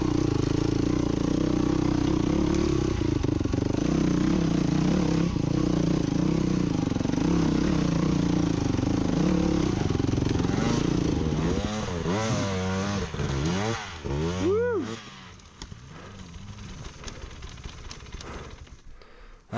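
A dirt motorcycle climbs a forgotten trail toward Crown King, its engine droning steadily and loud before revving up and down in uneven surges as the rider works the throttle on the climb.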